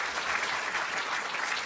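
Audience applause for a panel at a mayor's children's summit, a dense steady wash of many hands clapping at moderate level with no voices.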